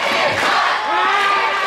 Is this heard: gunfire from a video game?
no